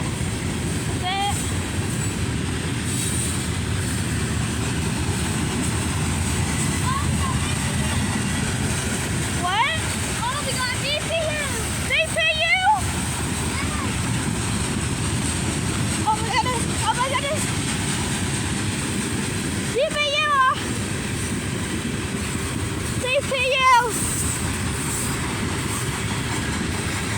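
A CSX coal train with an ES44AH locomotive as distributed power passes nearby: a steady rolling rumble of railcars, broken by several sharp, brief wheel squeals.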